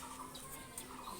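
Local desi pigeons kept for sale as high-flying birds make soft, faint bursts of clucking and cooing calls over a constant low background hum.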